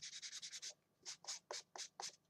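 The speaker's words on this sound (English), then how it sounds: "And this is 220 new sanding blocks. And just to make it nice and smooth." Rhythmic scraping strokes of a 220-grit sanding block on a wooden clothespin, six quick passes followed by a short pause and five more, close and crisp.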